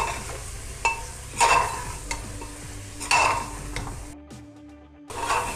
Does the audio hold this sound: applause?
no